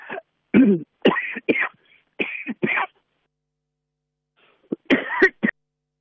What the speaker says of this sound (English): Yes, I was coughing, sorry.